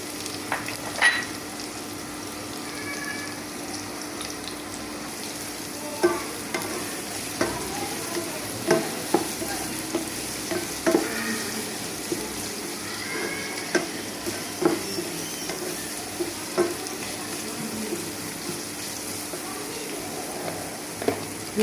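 Chopped onion and garlic fry in hot oil as a continuous close sizzle, with frequent light clicks and taps of a utensil stirring against the pan, no speech over it.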